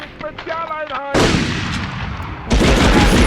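In the video game Medal of Honor (1999), a short tonal chime gives way to two heavy, booming blasts of gunfire, each a loud burst that sustains into rumbling noise.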